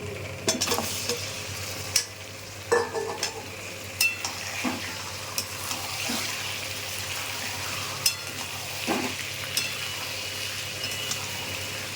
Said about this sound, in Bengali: আদা রসুনটা ভাজা হয়ে গেছে, দিয়ে দেবো চিকেন।